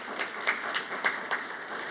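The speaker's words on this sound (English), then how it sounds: "Let's have a round of applause for those partners." Audience applause for event partners at a business talent-retention gathering, a steady wash of clapping with a few sharper bursts, moderately distant and fairly faint.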